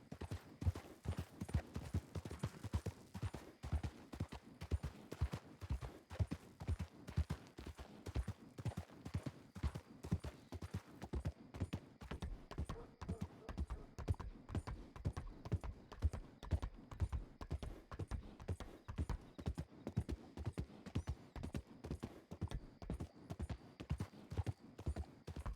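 Horse hooves clip-clop steadily and close in the Red Dead RP video game, a continuous brisk rhythm of sharp strikes that runs without pause the whole time, with no talk over it.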